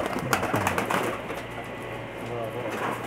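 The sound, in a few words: pigeons cooing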